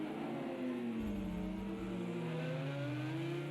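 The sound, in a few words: GT3 race cars braking in video game Project CARS 2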